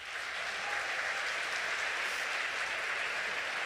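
Applause for small business owners at a Raleigh event with Vice President Harris, a dense, even roar of clapping from a large crowd that holds steadily and alone throughout.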